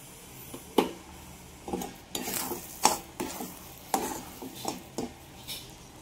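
A spoon scrapes and taps in a pan while jaggery lapsi porridge is served, giving a series of close, irregular clinks and scrapes over a soft background hiss.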